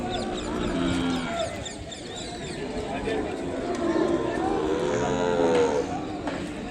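An Ongole bull calf moos several times in drawn-out low calls, close by, while people talk over and between the lowing, with other farm animal sounds faintly mixed in.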